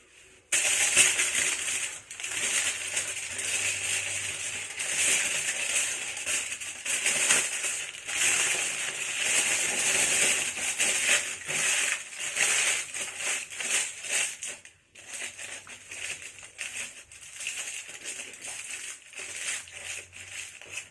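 Aluminium foil crinkled around strands of hair: a steady close crackling and crumpling that runs throughout, with a short pause and then more crinkling, without talk.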